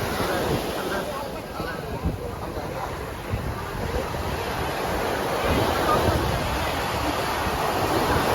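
Sea waves washing onto a beach at night, a steady broadband surf roar with gusts of wind noise on the microphone, continuous and fairly loud throughout.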